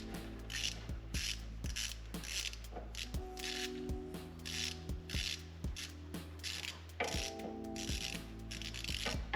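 Ratchet socket wrench working a cylinder head bolt on a Toyota Celica TA22, a series of close, quiet clicking ratchet strokes in short bursts with metallic rubbing between them.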